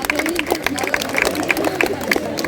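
An audience at a Vivekananda Jayanti celebration at a college claps in a busy, uneven patter with distinct sharp hand claps among crowd noise, while voices carry underneath.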